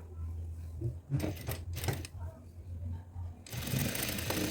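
A sewing machine runs in short bursts to stitch a tack across the centre seam of a chudidar pant, with a quiet low hum between bursts and a longer run of stitching at the end.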